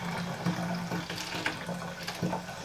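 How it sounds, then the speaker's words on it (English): Cold water runs from a tap into a bucket, a steady splashing stream with small gurgling bursts, close and moderately loud, with no speech over it. "so I'll start with a bit of cold water."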